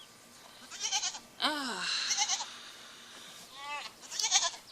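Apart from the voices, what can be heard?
goats bleating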